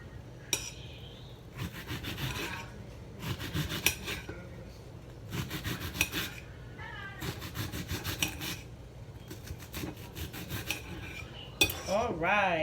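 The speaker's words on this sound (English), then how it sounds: "Alright, I got the onions nicely chopped." A knife slices onions lengthwise on a cutting board in a kitchen, giving repeated, evenly spaced crisp cutting strokes, with a cat meowing near the end.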